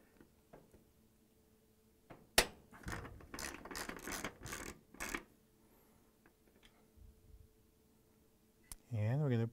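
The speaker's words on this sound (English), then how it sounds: "we're going to place it over the orifice, and we're going to unscrew it." Socket ratchet working loose a GE orifice spud on a gas range, giving a short burst of close, quick ratcheting clicks in the middle, with quiet handling noises around it and a voice speaking.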